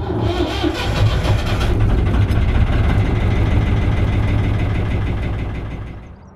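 Narrowboat engine running on the Staffs and Worcester canal near Rodbaston lock: a steady low diesel throb and chug, close and continuous, fading slightly toward the end.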